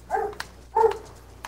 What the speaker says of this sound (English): Dog, shut up.